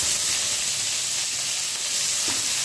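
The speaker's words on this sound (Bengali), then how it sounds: "বেগুনটাকে ভেজে তুলে রাখবো" Eggplant frying in white oil, heard as a loud, steady, close sizzle with a continuous bright hiss and no pauses, and no talking.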